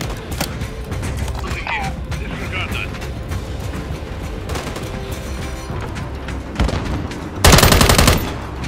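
Rapid automatic gunfire and scattered shots from Modern Warfare 3 multiplayer rattle on loudly without pause, with mechanical clanks, and a heavy burst of fire near the end; game voices call out over the shooting.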